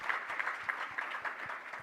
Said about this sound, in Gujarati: શાસ્ત્રી સ્વામી કૃષ્ણદાસજી સ્વામીને જોરદાર તાળીઓના નાદથી વધાવી લ્યો એકવાર